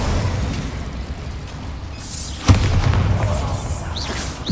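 The Bombarda explosion spell goes off in Hogwarts Legacy on PS5: a single sharp, heavy blast bursts out midway, followed by crackling debris over a continuous rumbling game soundscape.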